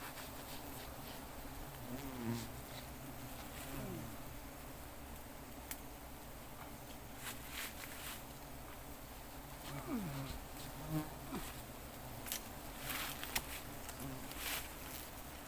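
Honeybees buzz steadily around a young comb found clinging beside a hive, a continuous droning swarm close by with individual bees passing nearer, plus faint handling noises.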